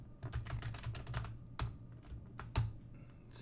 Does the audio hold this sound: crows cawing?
no